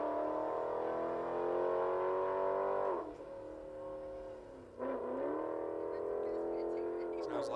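A white and black drag racing car, number 722, makes a right-hand lane competition single run, its loud engine roaring steadily with two sharp dips in pitch around shift points before climbing again.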